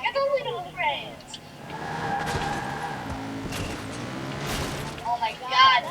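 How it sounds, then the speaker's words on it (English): A sports car in the Watch Dogs 2 video game revs and skids with squealing tires, loud and sustained, while people talk and shout excitedly over it. "This is a freaking sport car!"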